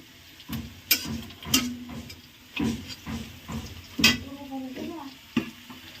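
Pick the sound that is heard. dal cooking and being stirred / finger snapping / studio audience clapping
dal cooking and being stirred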